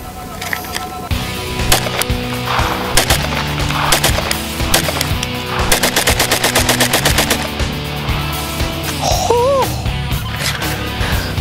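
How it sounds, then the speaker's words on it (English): Rapid bursts of gunfire crack out from a B&T TP-9 pistol being bump fired, loud and close, with clusters of fast shots running together into short strings and some quieter pauses between. "we're going to try and see if we can't get this little guy to bump fire"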